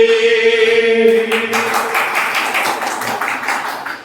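After a held musical tone fades, a large audience at a college gathering breaks into sustained clapping together, a dense crackle of many hands that stays steady and fairly loud to the end.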